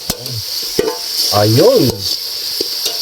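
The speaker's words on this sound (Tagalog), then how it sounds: "Gigisa natin para mas mabango siya." Pork sautés in a hot pan for soup, sizzling loudly under scraping stirs, and a voice briefly speaks over the frying.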